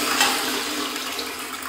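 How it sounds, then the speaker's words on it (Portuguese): A farmhouse toilet flushing, a loud rush of water close by that begins abruptly and keeps surging for the whole short stretch, with no voices over it. "eu dou descarga."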